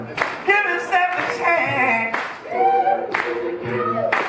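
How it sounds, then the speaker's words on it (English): Audience members clap along in rhythm at a live concert at a stage and grill venue, steady beats under a singer and band. "Everybody clap your hands."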